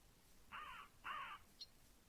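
A crow-like bird in a video game gives two harsh, raspy caws in quick succession, followed by a short faint squeak, fairly clear against a quiet background.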